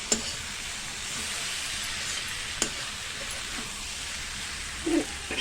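Okra frying in a pan with chickpea flour gives a steady, even sizzle. A couple of brief clicks, like a stirring utensil touching the pan, sit over the continuous hiss, and there is no talk.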